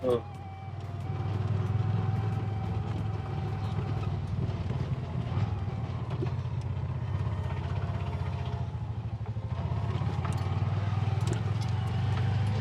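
A small three-wheeler engine putters steadily with a low, rattling drone, the ride jostling along continuously without pause.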